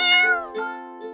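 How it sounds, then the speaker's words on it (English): A cat meows in a single clear, close, drawn-out call with a rising and falling tone, heard alone. "C for cat"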